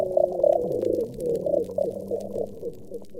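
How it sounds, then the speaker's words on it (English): Underwater soundscape from a coral reef: low, wobbling groans and rumbling tones with brief bright calls and faint crackle, shifting continuously and close with no voices. "some sounds from a coral reef"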